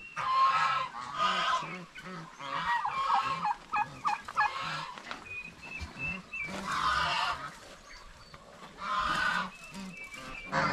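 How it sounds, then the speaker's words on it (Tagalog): Turkeys and turkey chicks call in bursts of gobbling and honking squawks, moderately close, interspersed with quieter chirps and pauses, with no talking. "Sisiw ng pabo."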